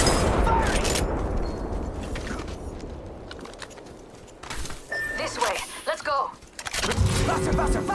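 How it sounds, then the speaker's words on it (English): Gunfire in Apex Legends during a squad firefight, a burst of shots and mechanical weapon clatter near the start, later a rattle of rapid fire and loud bangs, mixed with game effects and players talking. "They're shooting!"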